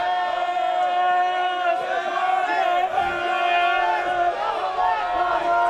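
Sports crowd and sideline at an open final send up sustained, loud cheering and shouting with whoops, a continuous roar of many voices close by.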